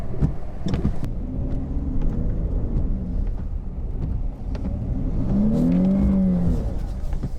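Dodge Charger SXT AWD revving and accelerating hard on fresh snow with traction control off, a loud steady engine rumble that rises in pitch toward the end, with no talk.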